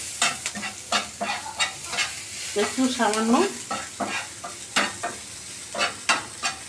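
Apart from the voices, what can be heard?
eggplant slices frying in a pan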